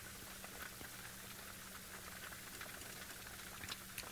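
Steady rainfall patters on a roof overhead, a low, constant hiss of drops with occasional sharper taps, quiet and unbroken, no one speaking.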